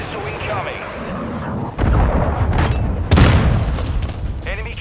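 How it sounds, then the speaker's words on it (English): Heavy explosions from a cruise missile strike during a Team Deathmatch match in Call of Duty Modern Warfare II, loud rumbling booms layered over continuous battle noise and gunfire, with a sharp burst near the end. "Hostile cruise missile incoming"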